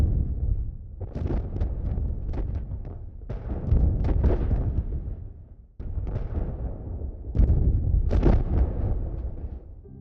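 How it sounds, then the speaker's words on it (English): Distant cinematic explosion effects: a series of deep, rumbling booms with a powerful low end, arriving in several separate bursts with short decaying tails and no voices. "settle on a distant explosion that has the perfect balance of power and depth"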